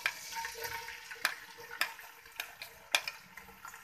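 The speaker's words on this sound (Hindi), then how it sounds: "ऑयल गरम हो गया। अब इसके अंदर डालेंगे प्याज" Green onion tops fry in hot oil for a vegetable biryani, a soft continuous sizzle broken by a few sharp clicks and taps of stirring, close and fairly quiet.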